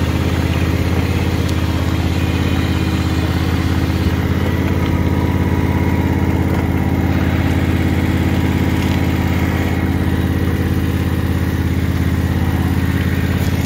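A lawnmower engine runs at a steady idle nearby, its loud, even mechanical drone continuing without pause and with no talk over it.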